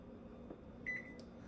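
A kitchen oven being switched on, giving a steady low appliance hum and then a short run of electronic control beeps partway through.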